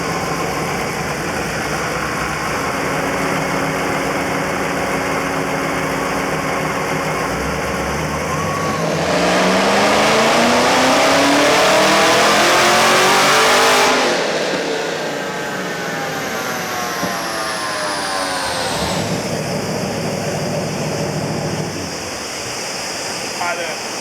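An LS3 V8 with an LSA supercharger and a 5-inch intake idles on a dyno, then revs in one long sweep to a loud, whining high-rpm peak and falls back to a rumbling idle.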